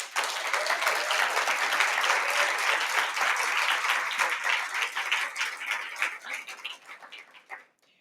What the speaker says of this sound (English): If you could just join me in a round of applause for the incredible work of our hosts today